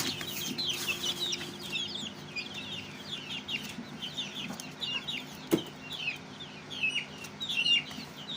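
Young poultry chicks cheep in a busy, continuous flurry of high chirps, close and moderately loud, with a few soft clucks and a sharp knock partway through.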